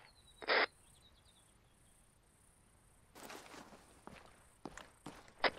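In the military shooter ARMA 3, footsteps on a quiet night map come as soft, scattered crunching steps in the second half, over a steady cricket and insect chorus, with one sharp brief noise near the start.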